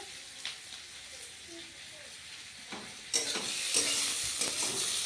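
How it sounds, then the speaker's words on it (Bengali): Onions frying in a pan for a home-cooked fish khichuri, stirred now and then; steady sizzle that grows louder and brighter partway through, with scraping stirs, close by. "পেঁয়াজটা ভাজা হোক তারপর আস্তে আস্তে সব মশলাগুলো এবার দিয়ে দেবো"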